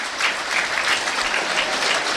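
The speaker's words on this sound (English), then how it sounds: "As the applause will last for the full minute." Boston United fans at a home football match against Gateshead give a steady minute's applause, a dense wash of clapping from the whole crowd that holds at an even level from start to finish with no talk.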